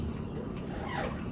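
Thyme-infused vinegar poured from a small bowl back into another bowl, a soft continuous liquid trickle close by, brief and steady with no talk.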